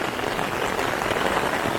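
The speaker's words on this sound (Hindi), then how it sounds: "पानी बहुत तेज़ बरस रहा है बस।" A steady roar of heavy mountain rainfall, close and loud, pattering densely on surfaces without pause.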